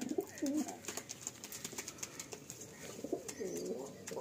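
Madrasi pigeons let loose, giving low, throaty coos amid quick wingbeats and flapping. The sound is close and fairly loud, with the cooing rising at the start and again near the end.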